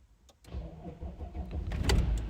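An Audi A6 C6 S-Line 2.7 V6 TDI diesel cranks and catches, settling into a steady low rumble that grows louder toward the end, heard close by with no talk.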